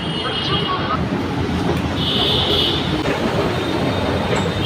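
A steady loud rumble of a metro train at LB Nagar metro station, Hyderabad, with a brief high squeal of wheels partway through; no clear talking.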